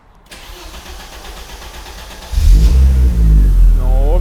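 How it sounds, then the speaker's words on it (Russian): An Audi S4 engine with a large turbo cranks and catches after a quiet stretch, then runs with a loud, deep bassy rumble, and a voice speaks briefly over it near the end. "Давайте запускать и посмотреть, какой нафиг звук получился."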